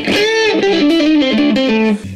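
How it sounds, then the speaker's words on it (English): Thin, bright electric guitar through an Empress Effects Multidrive overdrive with a high-pass filter cutting the low end, a short melodic run of sustained notes that stops abruptly. "and then if you do the high pass"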